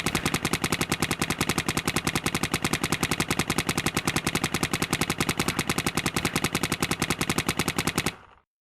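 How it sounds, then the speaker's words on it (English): A paintball marker fires a long, rapid, steady string of shots like a machine gun at a tournament field, loud and close, ending abruptly after about eight seconds. "let me shoot a bunch of paint and see where it's landing"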